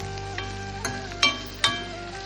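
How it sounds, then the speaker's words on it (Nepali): Pork cooking in a pan at a home party, a steady sizzle with a few sharper clanks and scrapes of stirring standing out, close and fairly loud, with no talking. "मामाले मासु पकाउँदै हुनुहुन्छ मामा यो पोर्क है पोर्क"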